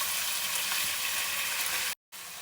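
Onions that have turned reddish fry in a pan with ground spice paste, giving a steady, close sizzling hiss that drops out briefly near the end before resuming.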